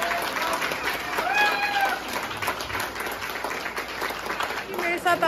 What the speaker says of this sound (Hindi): ढेर सारी तालियां बच्चों के लिए।